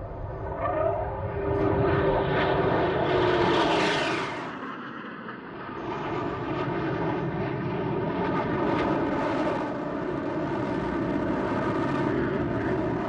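Military jets perform a close dogfight display at an air show: a loud jet roar swells and sweeps past with a rising whine, dips briefly, then a second engine drone rumbles on steadily.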